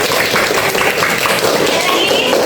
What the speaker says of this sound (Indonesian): Tepuk tangan buat Alisa